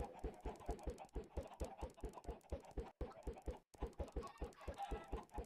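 Chickens in Minecraft give a rapid, rhythmic run of soft clucks, repeating evenly with two brief gaps, fairly quiet and with no talking over them.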